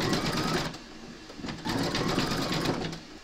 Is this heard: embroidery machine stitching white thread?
yes